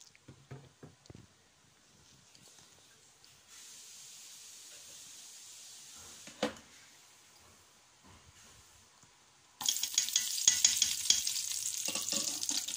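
Sunflower oil and ghee heating in a pan on the stove: a faint steady hiss gives way to a louder, brighter sizzle near the end, with a few soft clinks early on.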